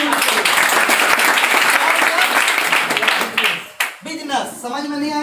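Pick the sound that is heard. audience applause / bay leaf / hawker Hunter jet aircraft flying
audience applause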